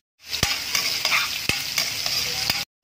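Ginger frying in oil in a wok-style pan (kawali), with a bright, steady sizzle broken by several sharp spoon knocks against the pan.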